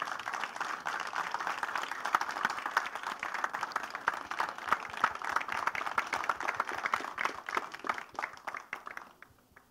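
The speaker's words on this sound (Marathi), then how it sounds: "एकदा जोरदार टाळ्या झाल्या पाहिजेत." An audience at a film trailer launch bursts into dense, sustained applause, a steady wash of many hands clapping at a distance that thins and fades over the final second.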